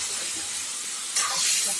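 Fish masala fries in hot oil with a steady close sizzle and hiss, growing louder near the end as the pan is stirred, with no talking.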